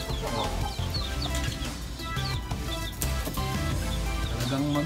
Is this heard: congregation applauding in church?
no